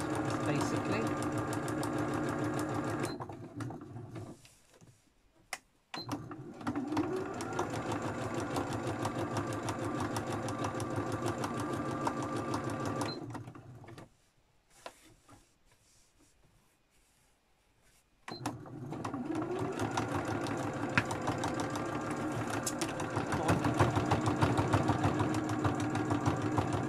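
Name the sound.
sewing machine stitching, clonking and clanking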